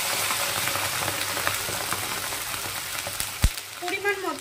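Hot water poured into a hot pan of just-fried potatoes sets off a loud, continuous sizzle and crackle, close up, with a few knocks and a bubbling burst near the end.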